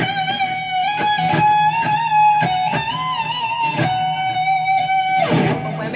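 Distorted electric guitar solo through a Line 6 Helix LT with delay and reverb: sustained, singing lead notes with bends and picked phrases, spacious echo trailing behind, loud and alone without talk.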